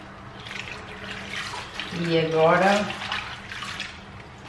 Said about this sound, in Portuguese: vou passar ali naquela água com vinagre para desinfetar